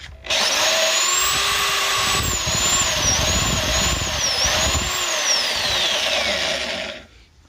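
Strumok electric juicer running on home-grown tomatoes for juice: a loud, steady motor whine with grinding and fluctuating pitch, starting abruptly and running about seven seconds before cutting off, with no talk.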